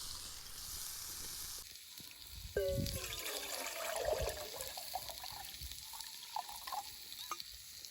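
Water poured into a pot over a campfire for boiling, a faint splashing trickle with light crackle and sizzle around it.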